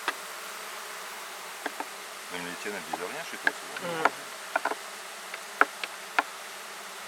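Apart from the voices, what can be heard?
swarm of black honey bees buzzing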